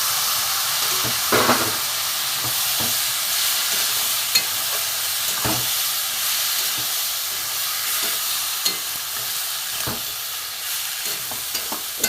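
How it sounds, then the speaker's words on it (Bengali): Boiled chana dal and banana stem tipped into cooked frying masala and worked in the pan, with a steady hissing sizzle and scattered soft scraping and knocking strokes, close and even. "এবার আমি ছোলার ডাল আর থোড় সেদ্ধ করা এটা আমি দিয়ে দেবো"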